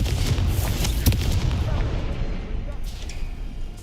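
Confringo blasting-spell explosions from Hogwarts Legacy, a loud booming burst with rumbling aftermath, then fading, with a few sharper crackles near the end.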